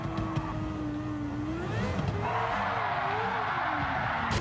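A Renault Espace F1 van in Gran Turismo 7, its 1990s Formula 1 engine revving high on the Circuit Gilles Villeneuve, pitch sliding up and down through gear changes with faint tyre squeal, loud and steady.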